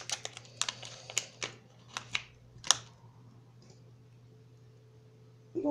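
A small packet supplied with a hair clipper-style device is torn and opened, giving a series of sharp crinkling, tearing clicks in bursts over a steady low hum, then quieting near the end.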